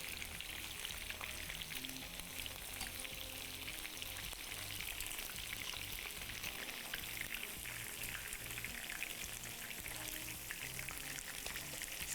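Thin chicken slices fry in oil for chicken chilli dry, giving an even, rain-like sizzle that runs on steadily at low level for about twelve seconds with no talking.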